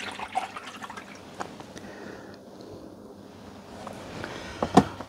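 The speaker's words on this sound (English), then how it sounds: "and pour all this solution in" Solution being poured into a plastic Tupperware box during a vise restoration, a soft continuous trickle and splash of liquid with a few drips and a louder slosh near the end, no talking.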